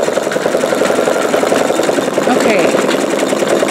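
A sewing machine stitching out a bumblebee quilt block runs at a loud, steady, fast buzzing rhythm throughout, with a person briefly speaking over it.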